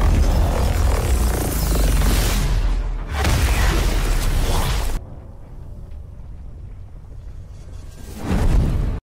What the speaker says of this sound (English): You attacking me with a rocket launcher?